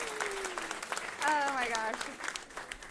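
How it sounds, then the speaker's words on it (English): Audience applause at an event stage, heard under a voice that speaks and an exclaiming, pitched voice riding above the clapping. "Give him another round of applause, please."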